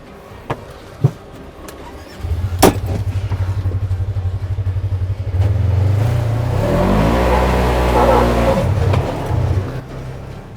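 A 2021 Polaris RZR XP 4 1000 Premium side-by-side engine rumbles steadily, then revs and climbs in pitch as it accelerates, loud and close, after a few sharp clicks at the start.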